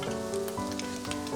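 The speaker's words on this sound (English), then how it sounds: "Fry the spam. You can fry until brown." Slices of Spam sizzle and crackle steadily in a hot frying pan, a close, continuous hiss with small pops and no voices.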